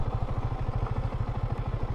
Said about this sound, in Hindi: हम बाइक पार्क कर लेंगे